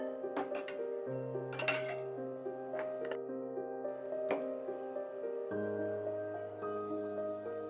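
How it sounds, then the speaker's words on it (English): A fork clinks and scrapes inside a glass jar while fermented cucumbers are scooped out, with soft wet squishes between the light metallic taps, all close and fairly quiet over a low steady hum. "Next, I'm gonna scoop out a few cucumbers and dig in."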